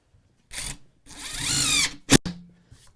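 A power drill whirs in short bursts, rising in pitch as it drives a drywall screw with a Dewalt screw setter bit, followed by a sharp crack and brief clatter, close and loud.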